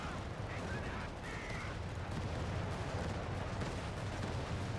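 An MG34 machine gun mounted on a Panzer III fires in Company of Heroes 3 battle, a faint, distant rattle of rapid bursts beneath a dense rumbling wash of combat noise.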